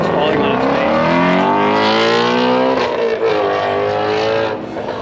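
A 1969 Pontiac GTO accelerates hard on an autocross course, the engine note rising loudly in pitch and then faltering and dropping off as it stumbles, close and dominant throughout.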